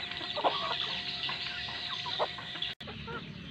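Brugo and kampung village hens kept together in one pen cluck close by, a few distinct calls rising over a steady low farmyard hum, with one brief dropout near the end.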